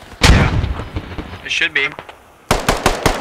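Artillery rounds landing in a 40v40 Squad match with a British bombardment, sharp broadband blasts in a quick cluster at the start and another volley at the end, with players talking over a radio in between.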